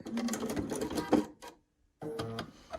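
Sewing machine stitching straight seams on a queen-size pinwheel quilt: a fast, close mechanical whir that runs for about a second and a half, stops briefly, then starts again, heard alone with no talking.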